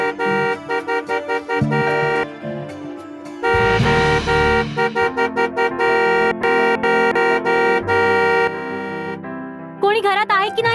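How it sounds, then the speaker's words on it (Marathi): Car horn honks sound repeatedly in short and longer bursts over a musical score, insistent and fairly loud, with a harsher blast near the middle. "असं रागात का हॉर्न वाजवतोय?"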